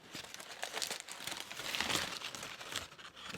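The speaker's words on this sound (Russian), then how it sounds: "Распаковка." A package being unpacked, its wrapping crinkling and rustling continuously in close, uneven bursts of crackle with no one talking.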